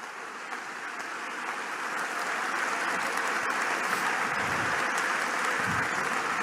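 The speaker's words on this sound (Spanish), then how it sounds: "Fuerte ese aplauso a Jesús, fuerte ese aplauso." Congregation applauding Jesus during a Spanish-language church sermon, a dense steady wash of clapping that builds slightly and holds loud throughout with no voices over it.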